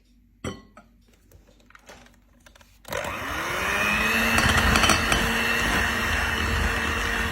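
After a few soft knocks and clinks, an electric mixer starts up and whirs steadily and loudly, whisking Swiss meringue into butter for buttercream, with a continuous motor hum that rises and holds.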